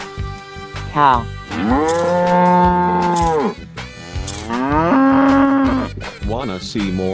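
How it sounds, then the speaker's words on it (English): A cow moos twice in long, loud, drawn-out calls, each lasting over a second, close by with a brief pause between them. "Cow."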